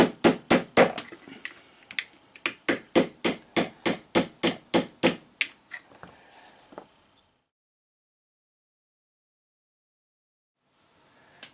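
Hammer striking a flat punch to drive a roll pin out of an M&P Apex sear assembly, a close series of about twenty sharp, evenly paced metallic blows, slowing and fading before silence.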